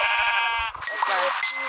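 Minecraft sheep bleat twice in quick succession, each cry a loud, wavering nasal call heard up close, with a brief voice in the gap between them.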